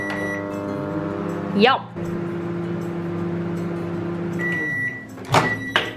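A microwave oven heats a pack of microwavable rice, giving a steady low electrical hum with a faint tonal whine. A brief voice and a couple of short clunks break in near the end.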